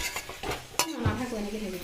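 A spatula stirs food in a cooking pan, making a brief run of close scrapes and light clinks over a faint sizzle.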